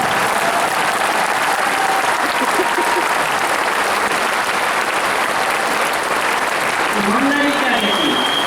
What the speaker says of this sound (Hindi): स्टार डायमंड क्लब की आते तालियां थोड़ी कम नजर आई है